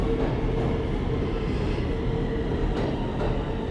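A New York City subway train rumbles steadily and loudly on the way from Midtown Manhattan toward JFK, with dense low wheel noise, rail clatter and a faint squeal throughout, no voices.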